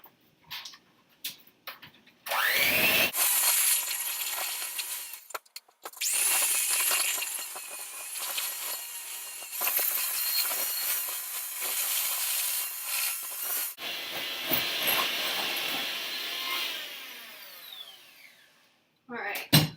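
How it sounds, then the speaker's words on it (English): An electric mixer whirs through cookie dough with vanilla in a big bowl, loud and continuous with brief stops and restarts, scraping and clattering against the sides. "we're just going to mix that up until it's creamy and fluffy"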